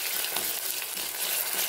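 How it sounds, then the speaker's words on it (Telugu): Ginger garlic paste fries with curry leaves in hot oil on a low flame. A dense, steady crackling sizzle continues without pause and without any talking. "కొద్దిగా అల్లం వెల్లుల్లి పేస్ట్ వేసుకుంటున్నాను"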